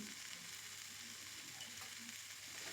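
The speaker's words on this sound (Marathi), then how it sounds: "इथे मी दोन ते तीन मिनटं सगळी मटकी सगळ्या मसाल्यामध्ये चांगलं परतून घेते" Moth beans are sautéed in a spice masala in a pan, giving a faint, even, continuous sizzle close by with no voices.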